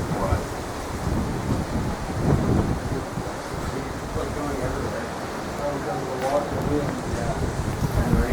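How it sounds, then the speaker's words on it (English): Wind and rain from an incoming storm make a dense, continuous roar with low rumbling swells that suggest distant thunder. The sound stays loud and steady throughout, with no clear voices over it. "Oh, and it started to rain already."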